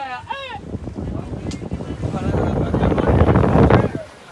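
A lake boat ride on Fateh Sagar Lake in Udaipur, with wind buffeting the microphone and a low rumble of the boat on the water under voices calling out near the start.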